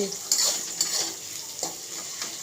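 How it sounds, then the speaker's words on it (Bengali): Tomato, salt and turmeric sautéing with onion and ginger-garlic paste in a pan, a steady close sizzle broken by several scraping stirs of a spoon against the metal, with no talk. "ভাজা ভাজা হয়ে গেলে টমেটো দিয়েছি, নুন হলুদ দিয়েছি। এখন কষাচ্ছি।"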